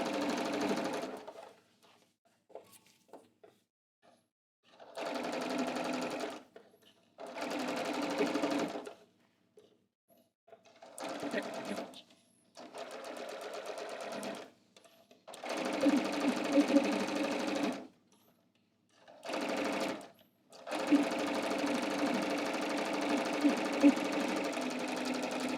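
Sewing machine stitching and reinforcing a pant crotch seam in repeated whirring runs of several seconds each, separated by silent pauses, close and steady.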